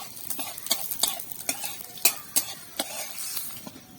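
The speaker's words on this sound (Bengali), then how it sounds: "এবার দেবো একটুখানি শুকনো লঙ্কা ফোড়নে, তারপর দেবো 2টো জিরে, দিয়ে একটু নেড়ে নেবো" Dried red chili and cumin seeds sizzling in hot oil for a tempering, crackling steadily while a spoon stirs and scrapes the pan in quick repeated strokes, close and clear.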